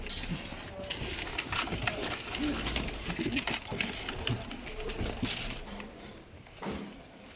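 Newly bought pigeons, one a large hen, coo in low throaty bursts nearby amid rustling and handling noise, with a person talking intermittently.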